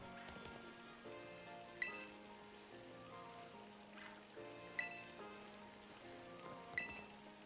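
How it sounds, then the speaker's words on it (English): Steady soft rain patters in the Paldea region of the video game Pokemon Violet, faint and continuous beneath gentle background music with a few brighter chimes. "Rain in Paldea isn't that cold"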